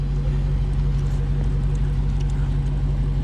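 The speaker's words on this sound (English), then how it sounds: "I hear that supercharger whining" A stock RT car engine idles with a steady droning hum and a constant supercharger whine, close and continuous with no break.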